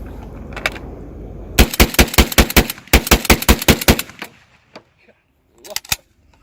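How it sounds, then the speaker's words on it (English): Semi-automatic bullpup shotgun loaded with a 12-round drum and light-load shells fires a rapid string of about a dozen loud, sharp blasts in two quick bursts. A few softer knocks and clinks follow, and brief speech is audible at the start. "We can go ahead and put a few rounds through this thing."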